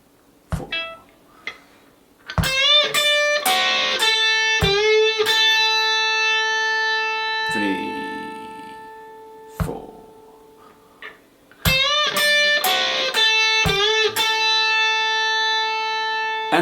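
An electric guitar plays a distorted lead segment. Sharp picked notes, bends and sustained ringing tones come in bursts separated by short gaps.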